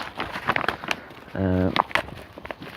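Book parcel packaging torn open by hand, a short crinkling rip about a third of a second long, close and fairly loud, set among rustling and handling noises.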